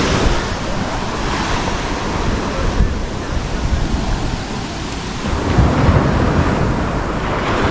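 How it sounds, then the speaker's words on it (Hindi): High-tide surf at Anjuna beach in Goa crashes and washes in a continuous loud roar, with wind buffeting the microphone and a swell of heavier breaking waves near the end. "हाई टाइड भी बहुत ज़्यादा है। पानी देखो कहाँ तक आ रहा है।"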